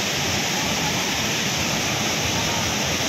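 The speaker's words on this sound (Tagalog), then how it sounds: "tinatanggal nila yung harang para at least continue yung flow ng tubig" Floodwater pours over a weir with its barrier removed during a typhoon in Dumaguete, a loud, steady, close roar of rushing water with no break.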